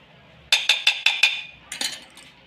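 A spoon stirring ginger-garlic paste, salt and chilli powder in a bowl while cooking soya chilli, giving five quick metallic clinks in a steady rhythm, a brief pause, then a few more lighter clinks, close and clear with no talking.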